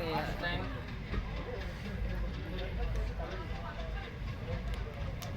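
A moving train in Nagaland heard from inside rumbles steadily at low volume, a constant clattering drone with muffled voices murmuring over it.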